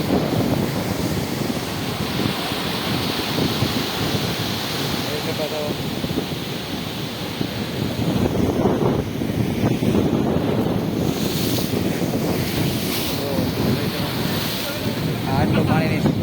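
Heavy sea waves surge and crash at the shore under strong gusting wind that buffets the microphone, a loud continuous roar with a voice talking over it.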